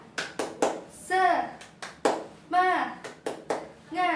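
An adult leads children in a rhythmic clapping chant, sharp claps falling in short patterned bursts alternating with chanted voices, repeated twice, close and lively.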